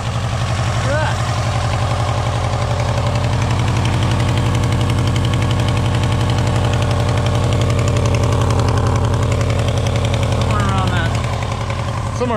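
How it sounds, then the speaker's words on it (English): A Subaru Legacy engine with an exhaust leak near the collector idles steadily up close with a rapid, even ticking and puffing rhythm, loud and constant, with faint voices underneath. "we got a little bit of an exhaust leak, but the engine actually sounds pretty good"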